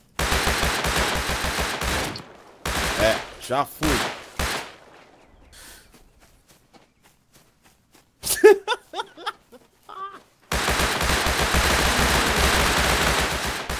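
Bursts of rapid gunfire from the game Rust at the start and end, with a quiet stretch in between where a voice speaks and laughs briefly.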